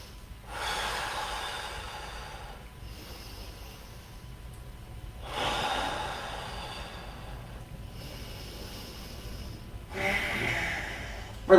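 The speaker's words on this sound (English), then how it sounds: "We're going to breathe here for 3 breaths" Deep, audible yoga breaths held in a pose: three slow inhale-exhale cycles with breathy, snort-like rushes of air, close to the microphone and without speech.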